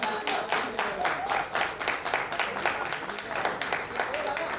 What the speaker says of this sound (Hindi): इनके लिए आप इतनी जोरदार तालियां बजाएं